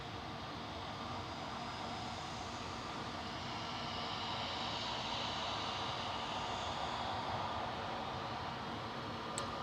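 Aer Lingus Airbus A320 at Manchester Airport, a faint, continuous engine roar that swells slightly midway, with no voices.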